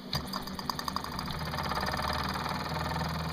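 A small working desktop model steam engine runs close by with a rapid, rhythmic mechanical chuffing and knocking that starts with a few distinct beats and settles into a steady, fast pulse.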